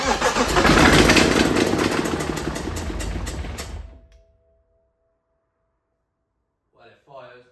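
A 300 bhp BMW E92 engine cranks and catches on its first start with no exhaust fitted, roaring loud and raw for about four seconds before cutting out to silence; a voice speaks briefly at the end.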